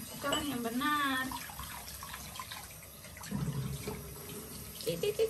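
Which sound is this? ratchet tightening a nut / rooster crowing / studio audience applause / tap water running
tap water running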